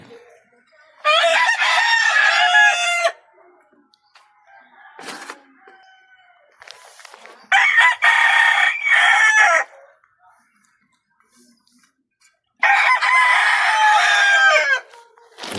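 A rooster crows loudly three times, each call a couple of seconds long with pauses between, and quiet rustling in the gaps.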